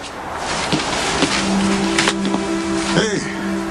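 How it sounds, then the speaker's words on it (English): A car drives nearby with a steady engine drone and faint tonal whine, plus a brief tire squeal near the end, all fairly close and heard without talk. "There's a car."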